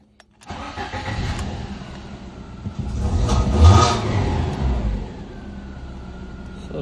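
A Lada Priora's engine cranks and catches after a new ignition lock is fitted, then revs briefly before dropping to a quieter steady idle, heard from nearby.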